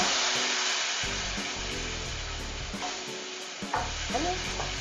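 Pan sizzling loudly as a chicken broth and flour mixture fries and is stirred, a steady hot frying hiss with scraping stirs, close and without voices.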